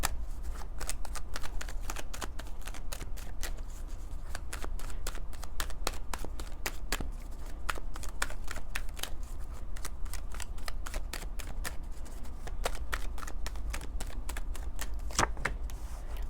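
Tarot cards are shuffled by hand, a long run of crisp, rapid riffles and taps in an irregular rhythm, close and fairly quiet with no talk.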